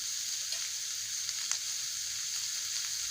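Chicken pieces fry with ginger and garlic in a pan over a low gas flame, giving a steady, close hiss of sizzling oil with a few faint pops and stirring ticks, and no talking.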